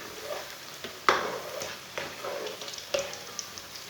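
Pakoras fry in a pan of oil, a soft steady sizzle broken by a few scraping clicks as pieces are turned over, fairly quiet with no talk.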